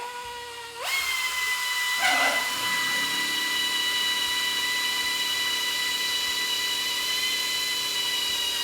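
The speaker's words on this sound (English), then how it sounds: "Now we're gonna just go with a smaller size drill." A small drill whines at a high, steady pitch, spinning up and biting into metal while mounting a seat on a Harley-Davidson Sportster motorcycle, continuous and close with no talking.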